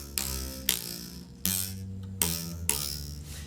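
A Kenyan Kisii obokano, a large lyre whose strings rest against reeds, is struck in a slow series of about five strong, buzzing plucked notes, each ringing and decaying before the next, played close and alone.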